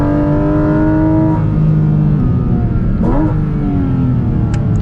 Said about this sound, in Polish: Silnik ten jest zdecydowanie wysokoobrotowy, on nie lubi, kiedy jedziecie nim z dołu.